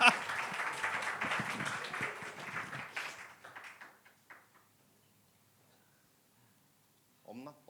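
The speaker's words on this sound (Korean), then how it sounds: "미디어 팀한테 박수 한번 줄까요?" A church youth service congregation applauds the media team, a burst of clapping from the room that tapers off to near silence within a few seconds before a voice begins speaking at the end.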